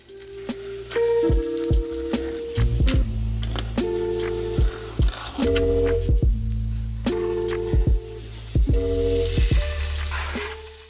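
Steak-seasoned beef frying in a skillet already used for turkey, a steady sizzle broken by recurring tonal bursts and scraping stirs, with louder hissing toward the end and no one speaking.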